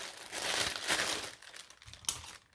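A parcel from an online shop is unwrapped, its plastic packaging crinkling and rustling steadily at close range, with a sharper crackle near the end and no talk over it.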